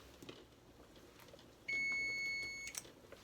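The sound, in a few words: kitchen timer beep after 3 minutes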